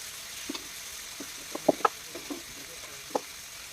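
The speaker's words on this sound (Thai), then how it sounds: "แล้วก็ผัด ให้เข้ากัน" Shrimp and lotus stems tossed with sauce in a hot wok give a steady close sizzle, broken by several sharp metallic scrapes and clanks of the spatula against the pan.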